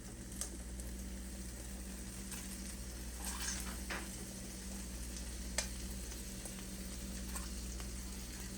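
Butter melting in a pan for a seafood boil, a faint steady sizzle beneath low hum, with a few soft utensil taps and clinks scattered through.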